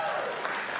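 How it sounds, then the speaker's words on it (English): Faith leaders at an interfaith conference give themselves a hand, a short burst of dense crowd applause, steady and fairly loud. "Can you just give yourself a really big hand clap?"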